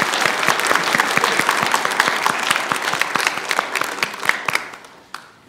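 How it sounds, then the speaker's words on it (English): A church congregation claps during a Sunday service, a loud, dense burst of applause from the room that carries for several seconds, then thins out to a few scattered claps and fades to quiet at the end. "Let's give them a round of applause, too, and thank them for their work here."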